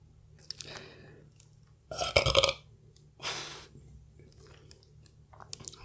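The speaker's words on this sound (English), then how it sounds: "Oh my god, you should hear my burps." A loud, close burp after eating KFC fried chicken, wraps and sides, rumbling for about half a second, followed by a second, softer burp and quiet chewing and mouth clicks.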